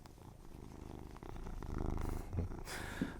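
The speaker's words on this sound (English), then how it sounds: "I'm sure that purring is very loud into the mic" A cat purrs loudly and close up in a steady rumbling drone, with a few soft handling noises near the end.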